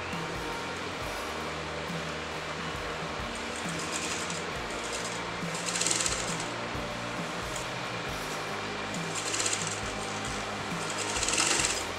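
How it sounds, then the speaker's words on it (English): A sewing machine stitches along the margin of bias-cut fabric with a steady, close mechanical whir and rapid needle rhythm, running continuously with a few brief louder surges. "I'm going to sew the exact margin of the fabric like this."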